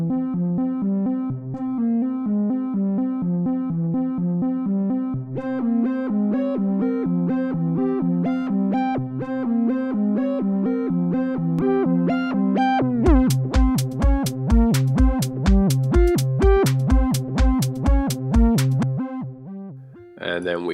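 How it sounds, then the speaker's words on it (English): A melody built from impulse files fed through a feedbacking filter in FabFilter Timeless 2, sustained resonant tones that shift pitch and then turn into rhythmic, pulsing repeated notes with deep thumps, playing alone with no talk. "I'm using a feedbacking filter to create the actual melody."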